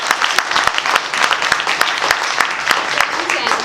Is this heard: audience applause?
yes